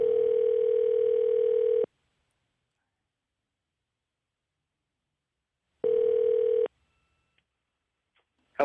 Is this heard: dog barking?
no